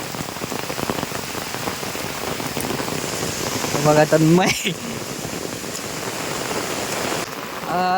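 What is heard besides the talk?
heavy rain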